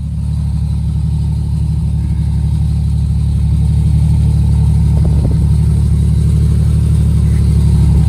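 A 1993 Jeep Wrangler Sahara YJ with its 4.0L engine drives down the road, giving a steady, loud mid-range engine drone with constant road rumble and no clear revving changes.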